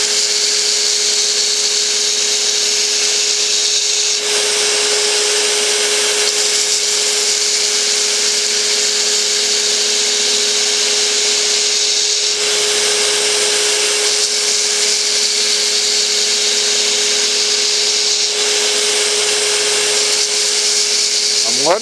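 A steel cowboy dagger blade is ground on a grinding wheel, a loud, steady abrasive whine and hiss that shifts slightly in tone every few seconds as pressure changes, continuous for the whole stretch.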